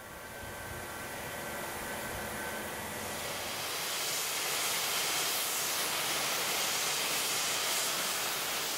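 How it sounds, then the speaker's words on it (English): A steam locomotive vents a loud, broad hiss of steam at a station departure, swelling steadily and continuing for several seconds without speech. "the locomotive lets off a good amount of steam for the guests"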